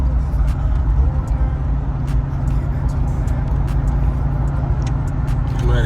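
Steady, loud engine drone and road rumble heard from inside a rebuilt Ford Crown Victoria while it is driven, with a few faint clicks and taps over it.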